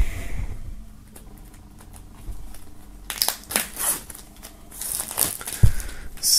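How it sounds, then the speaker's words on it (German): Crinkling plastic shrink-wrap foil being peeled and torn off a thick album box set, with scattered sharp crackles and rustles that grow busier in the second half. "Dann holen wir auch das hier mal aus der Folie."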